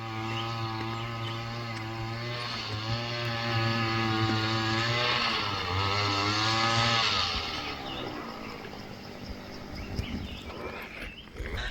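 An engine-powered drilling machine boring holes in a farm field runs steadily up close, its loud droning note rising and dipping as the load changes, then easing off near the end.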